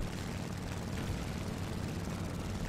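A steady, loud propeller engine drone from a Spitfire fighter plane in the War Thunder flight game, continuous and unvarying with no talking.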